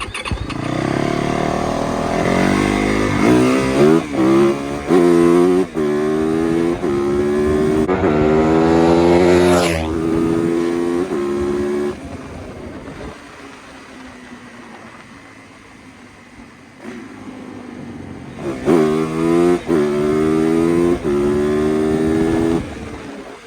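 Yamaha YZ450FX dirt bike fitted with big wheels ridden fast, the engine loud and close as it revs hard through rising gear shifts, eases off into a quieter lull, then screams up through the gears again.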